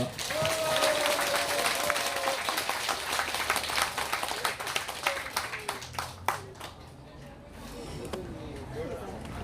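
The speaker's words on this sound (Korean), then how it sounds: "임덕기 회장님 박수로 모십시다." A crowd at an outdoor political gathering applauds as an association chairman is welcomed, a loud sustained wave of clapping with sharper individual claps near the end, while a voice carries briefly over the top.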